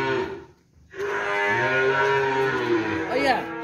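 At a cattle pen a Limousin-type cow lets out a long, loud, close moo that rises and falls, with a little background noise and faint voices around it.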